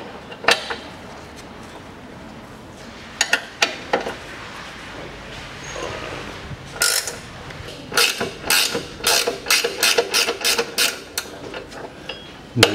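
A hand ratchet clicks in quick bursts on a 22 mm bolt and 19 mm nut at the rear short transverse link of a Kia Sportage 2.0, with rapid close metallic ratcheting and a few sharper knocks.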